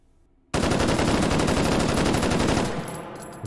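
A Galil AR battle rifle chambered in 7.62x51 NATO fires a fully automatic 25-round burst in the H3VR VR shooting game. A sudden, loud, rapid, even string of shots lasts about two seconds, then fades into a short echoing tail.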